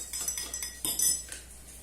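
A spoon stirs sugar and salt together in a bowl for pizza dough, making quick repeated metal clinks and scrapes up close, a busy rhythmic clatter that eases off at the end.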